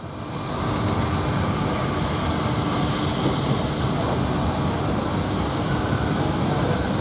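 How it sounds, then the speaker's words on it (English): A Mack truck's Maxidyne engine lugs the vehicle uphill at low revs at a steam fair, a steady loud droning rumble holding throughout with no talk over it. "The Mack engine, of course, the original, what they call the Maxidine, I think, tremendous lugging engine"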